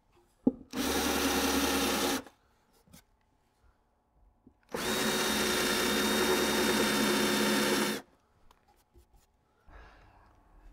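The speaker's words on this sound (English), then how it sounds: "now we need to make a nice countersink in those holes, ready to take the heads of our screws" A power drill countersinks screw holes in a wooden gabled beehive roof, running in two steady whirring bursts, a short one and then a longer one, with near silence around them.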